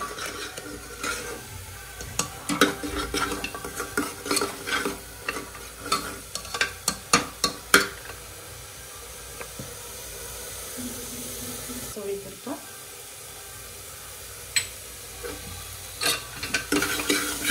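Homemade spice masala roasting in oil for a chickpea curry, with rapid sharp spoon clacks and scrapes against the pan over a low sizzle, then quieter frying with occasional taps.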